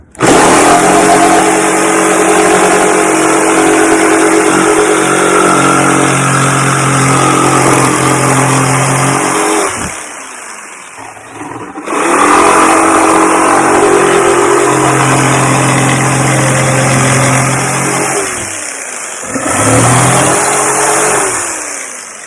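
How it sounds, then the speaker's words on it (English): A handheld jigsaw cuts out a carved wooden body for a lipless jerkbait lure, running in long steady buzzing passes that stop and restart, loud and close, with no talking. "the next step is just to use my jigsaw and cut out the body for which I drew"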